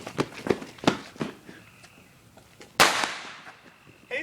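A firecracker goes off in one sharp, loud bang with a short, fading tail, after a few softer thuds and footsteps outdoors near a mud-bogging spot.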